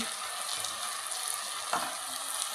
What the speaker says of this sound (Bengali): একবারে তেলের উপর দিয়েই ভাজি করছি